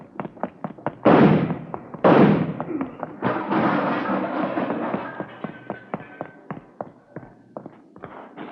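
Gunshots ring out in a radio drama police shootout: two loud, close blasts followed by a burst of rapid shots and a trailing series of sharp, evenly spaced cracks that thin out toward the end.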